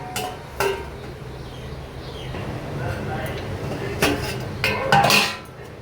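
A lid set onto a cooking pot holding boiling kharkol leaves with water and salt, giving a few sharp metallic clanks and clinks up close, with a voice talking between them.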